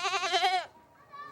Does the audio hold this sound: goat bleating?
yes